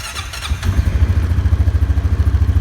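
A 2022 Honda Foreman 520 ATV cranks with a short clattering whir, then catches and settles into a loud, close, rhythmically pulsing idle.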